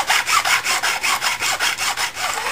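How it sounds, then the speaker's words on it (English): A steel mill file strokes along the sides of guitar frets, dressing the edges so they are not sharp, giving a steady series of about ten rhythmic, raspy scraping passes, close and loud with no talking. "run that mill file the whole length"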